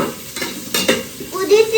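Food sizzles in a hot pan while a utensil stirs and scrapes through it, a loud, close hiss with a few sharp clinks and scrapes, no talking.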